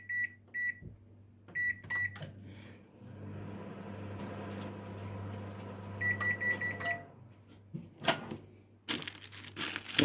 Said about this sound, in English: We're just gonna microwave them for a little bit,